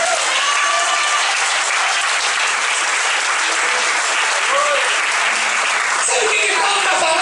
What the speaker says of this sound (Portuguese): Você pode aplaudir o Senhor agora?